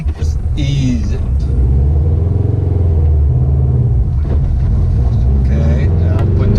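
A manual car's engine rumbles low and steady and rises slightly as the clutch is eased out with a little gas. A voice talks close by over the running engine throughout.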